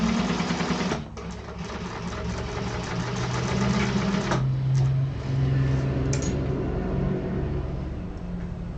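A sewing machine runs steadily with a fast mechanical whir and rhythmic needle clatter. It stops briefly near the start, then runs on at a moderate, close level.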